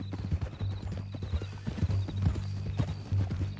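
Horse hooves clip-clop in a Red Dead Redemption II game scene, a close, rhythmic walking gait of repeated thuds over a low hum, with a faint whinny-like tone and no talk over it.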